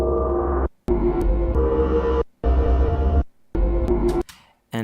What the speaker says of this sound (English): I chopped up the soundscape that we recorded and I got this